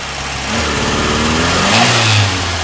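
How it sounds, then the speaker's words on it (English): A Fiat car engine runs close up with an uneven, rhythmic chugging under its drone, loudness swelling slightly partway through, with no voices. "Don't know if you can hear it, but an odd chugging noise."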